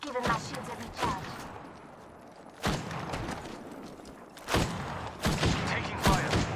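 Gunfire in the video game Apex Legends, several sharp shot bursts and a short volley spread across the clip over a steady game background, with faint voice in places.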